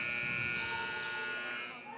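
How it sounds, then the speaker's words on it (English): A loud, flat electronic buzzer ends a quarter at a high school boys basketball game, blaring for about two seconds, then cutting off. "And the buzzer will sound."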